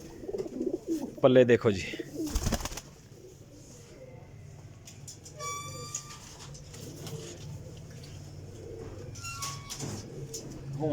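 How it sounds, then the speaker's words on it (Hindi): A Sialkoti flying pigeon coos in a short, throaty burst early on, close by. Someone speaks briefly, and faint bird calls and chirps follow over background noise. "सियालकोटी कबूतर ही है"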